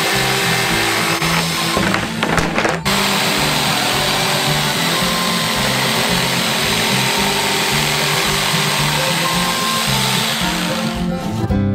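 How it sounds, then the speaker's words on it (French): An electric jigsaw cuts out a large drawn Bounty bar shape, giving a steady, loud buzzing drone that runs almost unbroken throughout, with a brief rattle of handling noise near the start. "Il reste à la découper avec une scie sauteuse électrique."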